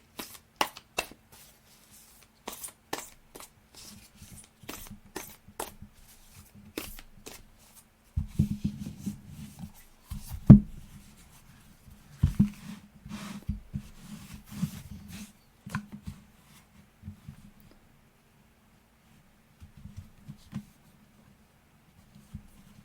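Oracle cards being shuffled by hand in quick riffling bursts, close and fairly quiet, with brief pauses between shuffles and no voices.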